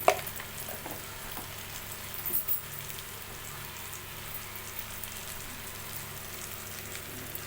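Ginger-garlic paste, coriander powder, turmeric and garam masala frying in a pan and being stirred, a soft steady sizzle with a couple of brief scraping stirs near the start, no voices.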